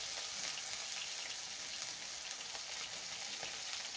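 Hornets fry in a pan with a dense, steady sizzle and crackle, with occasional sharper pops spread across the whole span, close and continuous, with no voices.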